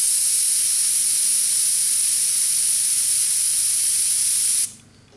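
An airbrush sprays paint onto the body of a 1977 Camaro, a loud, steady hiss that runs unbroken for several seconds and then cuts off abruptly.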